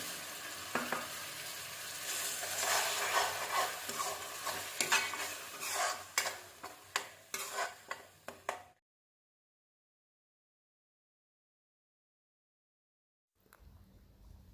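Tomato puree stirred into a sizzling pan, with rhythmic spoon scrapes and knocks over the frying hiss, stopping abruptly into silence before a faint return.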